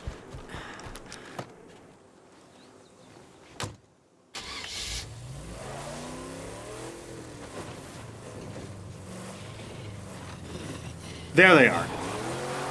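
A car in the video game State of Decay 2 starts with a brief burst, then its engine hums steadily while driving, with a voice speaking over it near the end.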